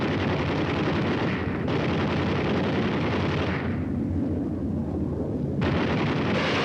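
Explosions rumble continuously in a Korean war combat video game, a heavy, dense roar of blasts and booming fire with brief shifts in intensity and no voices.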